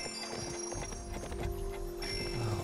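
Horse hooves clip-clop in steady rhythmic beats in the Barbie Horse Adventures: Wild Horse Rescue video game, set over looping game music at moderate volume.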